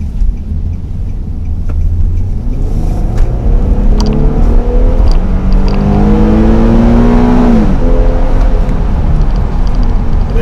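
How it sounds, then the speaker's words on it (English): A 2017 Infiniti QX50 with its VQ37 engine accelerates hard, revs climbing steadily across several gears before easing off, loud and close throughout with no talking. "There's that great sound of that VQ37 engine. Great acceleration."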